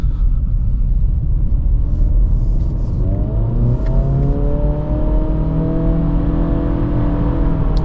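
A 2023 Acura Integra A-Spec accelerating hard on a wet mountain road, heard from inside with its engine note climbing steadily through the gears over a loud, close road rumble.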